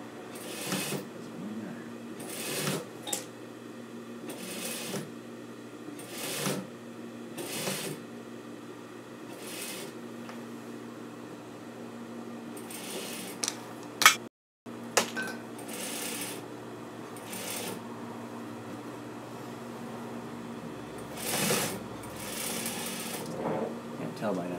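A sewing machine stitches a pocket onto a coat, with bursts of rapid mechanical whirring that start and stop repeatedly, close by, over a low hum, with a brief cut of silence midway.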